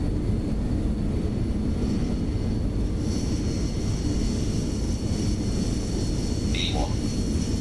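A BAe146 jet in a flight simulator game makes a steady, loud roar through its takeoff roll. The engine noise holds level throughout and masks a voice calling out in the background.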